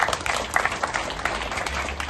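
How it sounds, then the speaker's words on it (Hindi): Audience at a school annual festival play applauds in a steady, dense burst of clapping throughout, fairly loud and close. "हमारे हौसला बढ़ाने के लिए जरूर तालियां बजाएं"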